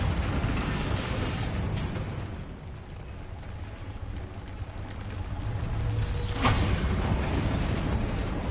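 Bombarda explosion spell blasting in Hogwarts Legacy, a heavy rumbling boom with debris and crackle that swells again near the end, loud and close with no voices.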